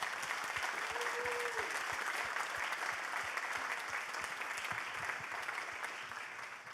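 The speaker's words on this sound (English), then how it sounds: "let's give Josh and Cory a round of applause." A seated audience applauds two speakers, Josh and Cory, at a Star Wars and World War II history talk, with steady dense clapping that fills the room and slowly tapers off toward the end.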